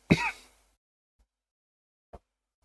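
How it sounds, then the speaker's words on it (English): A single sharp throat clearing comes first, close and fairly loud, then silence broken by a faint click and one brief, quieter cough-like sound near the end. "see, a bit of coughing here"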